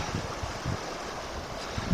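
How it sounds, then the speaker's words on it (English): Steady wind buffeting the microphone, a continuous low rumble with gusty swells, outdoors beside the Wild Ammonoosuc River in Bath, New Hampshire, with no talking. "But getting a little windy."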